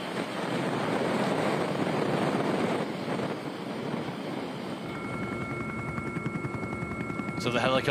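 Helicopter flying over a men's elite gravel bike race, a steady broad rotor and engine roar with wind buffeting, easing slightly midway as a faint tonal hum takes over.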